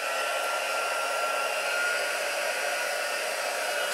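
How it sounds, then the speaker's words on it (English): Heat gun blowing hot air over gold embossing powder in a craft project, a steady, loud, close whooshing hiss with a faint whine, unchanging for four seconds. "Grab my heat gun"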